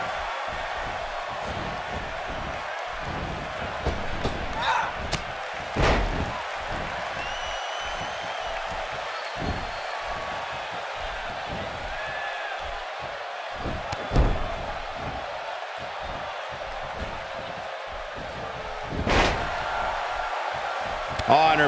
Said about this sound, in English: Oh, and her boot hits the mark.